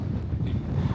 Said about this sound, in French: il y a du vent de zinzin